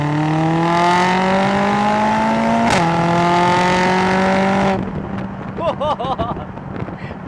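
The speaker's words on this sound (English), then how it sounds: "And now this is how the car actually sounds like" A car fitted with an aftermarket downpipe accelerates hard, its engine and exhaust droning loudly through rising gears with a brief shift, then easing off into quieter road and wind noise with faint voices near the end.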